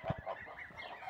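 Goslings with their mother hens give a few short, near honking calls in quick succession, then softer chatter.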